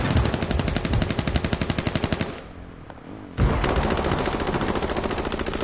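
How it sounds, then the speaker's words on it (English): Fast, loud bursts of automatic gunfire in the survival shooter H1Z1, rattling continuously, dropping out for about a second, then resuming at full strength. "Who's shooting?"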